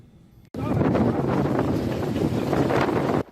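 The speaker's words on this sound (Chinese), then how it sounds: "一阵一阵的强风破坏力是真惊人。" Strong gusting typhoon wind during Typhoon Krathon in Kaohsiung and Pingtung, bursting in suddenly as a loud, roaring blast buffeting the microphone, holding for nearly three seconds before cutting off abruptly.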